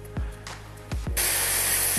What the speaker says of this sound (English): as you may be able to see, it is spraying out